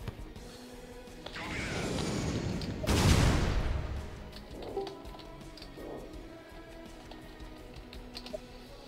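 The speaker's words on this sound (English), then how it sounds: "that's a helicopter strike, so it can only hit you with one of them" Loud explosive bursts from a helicopter strike in the video game Shellshock, one big blast rumbling out over a few seconds, with smaller impacts and clicking around it.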